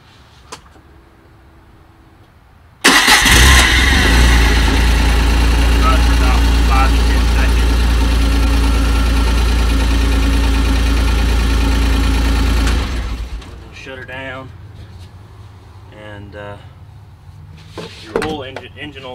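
A 2020 Kawasaki Mule Pro FXT side-by-side engine cranks and catches abruptly, then idles loud and steady up close for about ten seconds before shutting off, followed by quieter clunks and a voice speaking.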